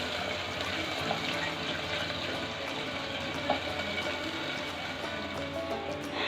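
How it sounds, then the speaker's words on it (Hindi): Water poured into a pan of frying onion, garlic and ginger, giving a steady hiss and sizzle of liquid that keeps an even loudness throughout with a few small clicks. "थोड़ा सा पानी इसमें ऐड करेंगे।"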